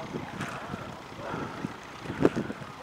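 Gusty wind sweeps across an open field at a ploughing match with vintage tractors and steam engines, a steady broadband rush with soft buffeting swells and one stronger gust near the end.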